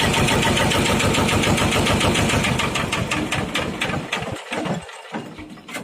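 An old tractor's engine runs with a fast, steady, knocking beat, loud and close, easing slightly and thinning out toward the end, with no talk over it.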